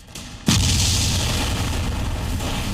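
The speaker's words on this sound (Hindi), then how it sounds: "पुलिस और सुरक्षा बलों ने आतंकी हारून गनई के घर को बम धमाके से उड़ा दिया।" Bomb blast demolishing a militant's house in Anantnag, Jammu and Kashmir: after a short quiet lead-in, a single loud boom erupts, then a long rumbling roar of debris and echo sustains without fading much.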